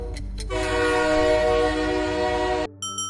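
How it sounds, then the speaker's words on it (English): A loud, sustained train horn blares for a couple of seconds, followed by shorter tonal blasts and rumbling railway noise. "And the correct answer is near train tracks."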